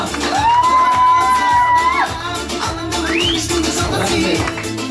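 Wedding guests at an in-laws' betrothal celebration cheering and whooping loudly, a dense crowd din with rising whistles and shouts, close and sustained, with voices mixed in.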